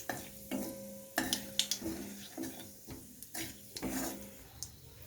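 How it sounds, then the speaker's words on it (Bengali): Bay leaf, garam masala and whole cumin frying in a little oil, a sizzle broken by repeated scraping strokes of a spoon stirring the pan at an irregular rhythm, close up with no voices. "ফোড়নটা একটু ভেজে নেব।"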